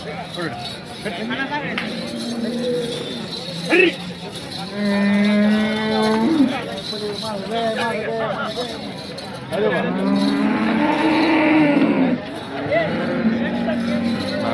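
Cattle lowing at the Sangola cow market in Maharashtra, with long drawn moos rising over a steady crowd murmur and people talking nearby.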